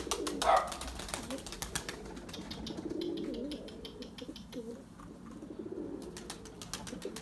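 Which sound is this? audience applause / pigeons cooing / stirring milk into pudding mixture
pigeons cooing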